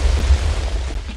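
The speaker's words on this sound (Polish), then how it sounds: "Taki najmocniejszy wybuch z wszystkich TNT." Super Storm TNT detonating in a video game, a loud, deep booming rumble with heavy low-end weight that stays sustained and rolling for about a second, with no voices.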